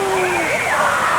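Water at a Lagoon amusement park ride's waterfall rushing as it is switched back on, a steady broad splashing wash under excited voices talking nearby.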